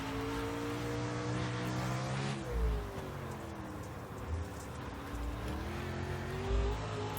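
A race car engine in the iRacing sim on a slick track drones close and steady, its pitch sliding down, then climbing again as the throttle comes back on.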